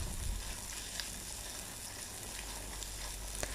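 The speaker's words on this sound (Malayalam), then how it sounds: "1 സവാള ഇതുപോലെ നീളത്തിൽ അരിഞ്ഞിട്ട് ഇതിലേക്ക് ചേർത്ത് കൊടുക്കുക. നന്നായിട്ടൊന്ന് വഴറ്റിയെടുക്കാം." Sliced onion sautéing in a pan for a curry served with rava dosa, a steady low sizzle with faint stirring ticks, quiet and continuous throughout with no voices.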